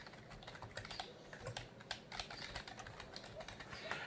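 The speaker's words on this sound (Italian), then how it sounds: "È più membrana che meccanica a differenza delle altre tastiere di cui vi ho parlato, come potete udire il suono è questo." Steady typing on a Roccat Horde AIMO membrane-mechanical hybrid keyboard, a continuous run of soft, muffled key presses at close range, fairly quiet, with no talking.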